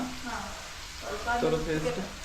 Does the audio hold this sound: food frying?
yes